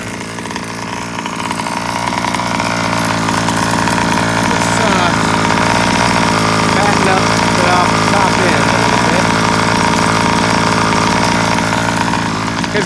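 Stock gas engine of a Rovan FT360R RC car, just moved from a Rampage with a Jet Pro pipe and leaned out, buzzing loud and raspy at high revs, steady and close for the whole stretch.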